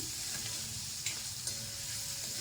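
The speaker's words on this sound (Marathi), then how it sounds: "तर तो आता आपण याच्यात टाकायचा आहे. थोडं परतून घेऊया" Chopped onions, cut fairly thick, sizzle in a hot pan while being stirred and sautéed, a steady close frying hiss with a couple of brief clinks, no voices.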